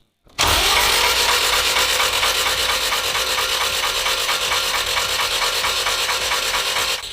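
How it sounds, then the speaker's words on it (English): A Honda race car engine with its spark plugs removed spins on the starter motor without compression after being blown on launch control, giving a loud, steady, rasping whir with fast rhythmic pulses that starts abruptly and runs alone for about seven seconds. "We'll turn it over now using the starter motor without compression."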